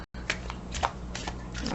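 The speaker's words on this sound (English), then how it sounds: "these cards just really want to keep being shuffled" Tarot cards are shuffled by hand up close, a series of quick papery riffles and soft slaps in an uneven rhythm after a brief silent gap, fairly clear with no talking over them.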